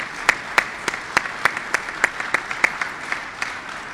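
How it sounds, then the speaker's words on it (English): A crowd at a bill signing applauds, the clapping carrying a strong regular beat of sharp, loud claps roughly every third of a second over a wider bed of scattered hands. "let's give the senator a big round of applause."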